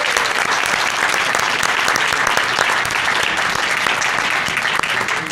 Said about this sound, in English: that deserves our applause